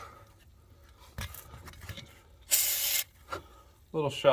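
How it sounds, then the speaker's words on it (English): Short bursts of aerosol rust penetrant sprayed onto the transmission line clips of a 2013 Dodge Grand Caravan, one strong hiss near the middle and a shorter one after, set among faint mechanical clicks and handling noises. "some kind of rust penetrant, just to try to make things move a little smoother"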